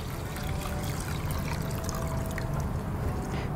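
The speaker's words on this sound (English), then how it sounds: "All right, so add in the water." Water pours steadily into a pot of rice for cooking, a continuous close splashing trickle that holds at an even level from start to finish, with no talking.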